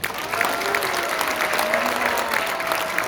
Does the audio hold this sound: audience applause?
yes